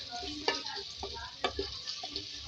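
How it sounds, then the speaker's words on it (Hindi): Onions frying in a pan, a steady close sizzle punctuated by several crisp scraping and clinking stirs spaced irregularly, with no talking. "इसको फ्राई करेंगे।"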